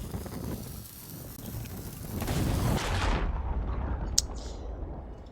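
A gunpowder barrel blast from an exploding skeleton in a pirate video game rumbles loudly into a deep, rolling boom that fades out, with a sharp crack following shortly after.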